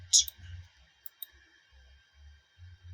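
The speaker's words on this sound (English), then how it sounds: "I'll come here and click on fair. Then I submit." Mouse clicks on a computer while submitting an answer in an online image Q&A qualification test; a quick bright click cluster near the start, then two small faint clicks, over low background hum.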